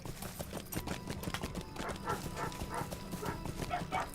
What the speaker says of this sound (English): They're barking so loud in the other room